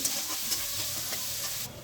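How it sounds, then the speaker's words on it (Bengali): Chopped onions fry in a pan with a steady, soft sizzle and hiss, continuous and close throughout. "এখানে পেঁয়াজটা ভাজা হয়ে গেছে"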